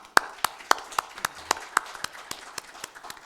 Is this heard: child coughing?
no